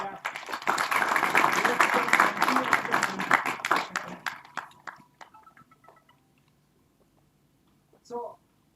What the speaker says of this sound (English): So let us clap.